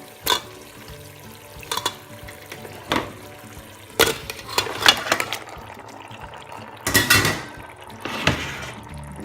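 Mutton pieces tipped into a pan of cooked spice paste for kalia, giving a series of sharp, loud sizzling bursts with scraping and stirring in between, close up and with no talking.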